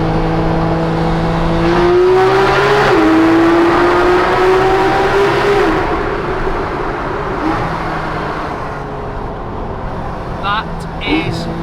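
Porsche GT3 RS exhaust howling loudly inside a road tunnel, a high rising engine scream held for several seconds with reverberation before easing off, with a voice briefly audible over it.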